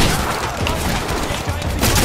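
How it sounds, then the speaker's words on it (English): A burst of loud, rapid gunfire from a weapon in the Titanfall beta multiplayer, sustained across the brief moment with a crackling, close, dense texture. "What kind of gun was that?"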